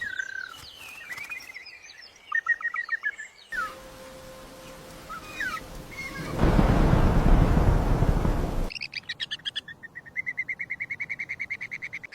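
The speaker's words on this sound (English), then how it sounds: "Chirp, chirp, chirp, chirp, chirp, chirp, chirp." Small birds chirp in rapid, repeated trills, with a burst of wind noise in the middle before the quick, evenly spaced chirps return close and clear.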